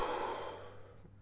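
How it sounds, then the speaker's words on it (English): A single deep exhaled breath, a soft airy whoosh close to the microphone fading out over about a second, with no talking. "take a deep breath in and out"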